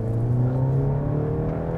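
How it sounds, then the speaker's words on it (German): The four-cylinder engine of a Mercedes-Benz C 300 4MATIC sedan (258 hp) revs hard up close, a loud, steady droning growl with rising harmonic tones. "Wenn man den Motor ausdreht, hört man natürlich, dass da ein Vierzylinder arbeitet"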